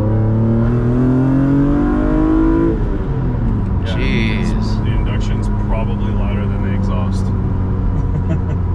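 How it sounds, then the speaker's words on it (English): A BMW E36 M3 with an original-manufacturer engine swap pulling hard under acceleration, its rising induction drone shifting pitch as gears change, with speech faintly underneath. "Love that induction noise."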